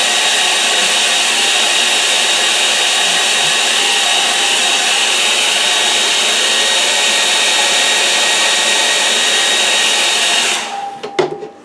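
A hair dryer blows close and loud, drying acrylic paint on paper with a constant airy roar for about ten seconds before it is switched off, followed by a few soft handling knocks.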